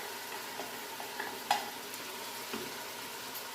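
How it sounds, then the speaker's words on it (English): Mushrooms sautéing in a pot for cabbage soup, a faint steady sizzle with a few soft stirring clicks, close by and quiet, with no talking. "we're just going to saute those for a bit"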